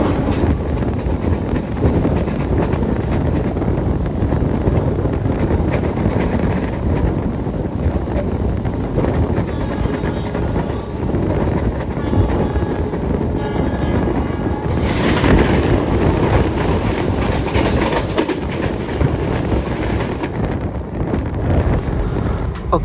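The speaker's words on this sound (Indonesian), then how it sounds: "baru aja kereta yang aku naiki berangkat dari stasiun Purwakarta" An economy passenger train departing Purwakarta station runs steadily, a constant rumbling roar with rhythmic rattling of the carriage and wind noise, heard from inside, no voices.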